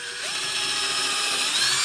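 Power drill whining steadily while driving or pre-drilling screws into hard ash wood, a loud continuous high-pitched drone close by with no pauses.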